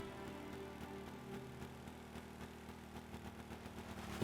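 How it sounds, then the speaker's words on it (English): A boat engine in the Stormworks game starts and idles, a steady mid-to-low mechanical hum running throughout at a fairly quiet level. "Start the engine."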